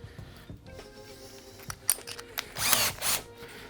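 Brief bursts of a power drill whirring through a wooden plank into a drilling block, with a louder sustained run near the end, mixed with clicks and handling knocks.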